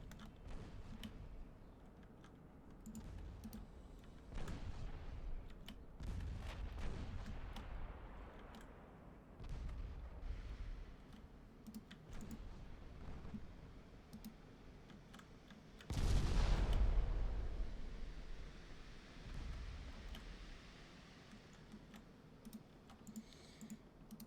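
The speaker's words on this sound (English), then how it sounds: "Okay, now they're firing." Naval artillery from warships in the video game Ultimate Admiral: Dreadnoughts, a low rumbling series of muffled booms rising and falling, with a louder heavy blast about two thirds through, faint under keyboard clatter.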